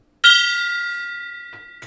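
A single struck gong sound effect rings out with a bright metallic tone that decays slowly over more than a second, followed by brief faint sounds near the end.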